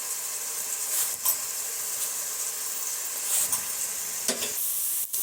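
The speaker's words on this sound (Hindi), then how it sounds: "प्याज जो है वो सौते हो रहा है" Onions sauté in a cooking pot with a steady, close sizzle and hiss, broken by a few brief stirring scrapes, and no talk.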